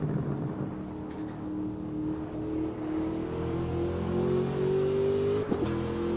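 A raspy racing car engine in the Assetto Corsa sim revs and drones continuously, its pitch climbing and settling as it accelerates through gears, loud and alone without any voices.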